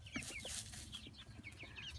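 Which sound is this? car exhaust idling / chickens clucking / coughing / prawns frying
chickens clucking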